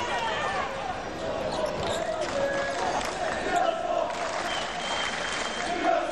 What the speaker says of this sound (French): Les applaudissements, les encouragements du public usmiste.